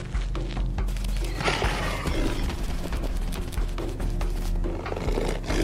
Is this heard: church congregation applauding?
no